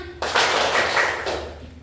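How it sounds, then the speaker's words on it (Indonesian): A single person claps hands in a classroom-style game, with a few quick close claps, then a louder, brighter burst of clapping that sustains briefly and fades. "Saya tepuk tangan."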